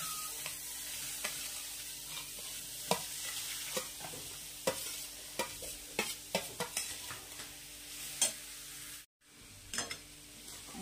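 Grated carrot for instant gajar halwa frying in two to three spoons of ghee in a kadai over high heat, with a soft continuous sizzle and repeated spatula scrapes and taps against the pan, near and fairly quiet.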